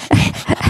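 People's voices imitate a dog panting: quick, loud, breathy huffs in a close, steady rhythm of about three puffs.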